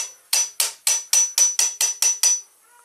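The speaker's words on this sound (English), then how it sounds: "I'm just going to try to hammer it, and try to make it stick" Nine sharp metallic hammer blows strike an engine part of a 1967 Triumph GT6 in quick, even rhythm at close range, then stop.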